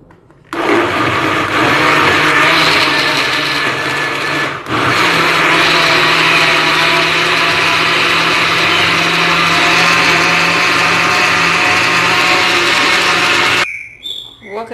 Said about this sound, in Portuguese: Vou colocar dentro do meu liquidificador. E vou colocar para bater junto com uma xícara de óleo.